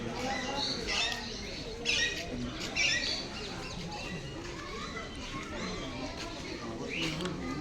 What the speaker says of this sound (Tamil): வானவில் லோரிகேட்,